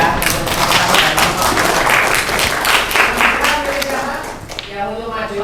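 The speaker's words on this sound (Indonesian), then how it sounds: "Silakan dikasih tepuk tangan ya." Loud, dense applause from a class audience after a group presentation in a teacher-training classroom lesson; clapping runs steadily for about four seconds, then thins and fades.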